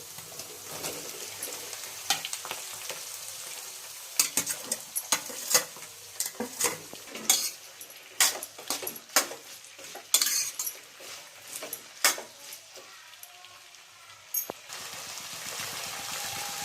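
Ivy gourd frying with onions in a pan, soft sizzling beneath frequent sharp metal spatula clacks and scrapes against the pan, irregular and close.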